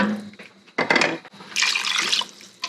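Water poured into a soup pot in separate bursts, two short splashing pours followed by a longer, brighter gush and a final brief splash, close by and fairly loud, with no talking.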